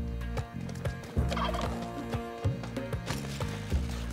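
Turkey gobbling in the video game Spelunky 2, a run of rapid, warbling gobbles repeated several times in close succession, loud and near, with no talk over it.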